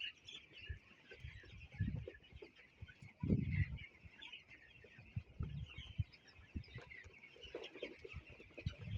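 Desi chicks of the FFG breed clucking and cheeping in a rearing shed, a steady scatter of soft calls with a few louder bursts, no talking.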